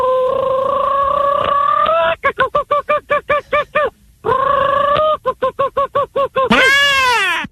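A man imitates a jungle bird's mating call with his voice, loud and close: a long harmonic honk, a rapid run of short pulsing hoots, another sustained honk and pulse series, then a rising squawk at the end.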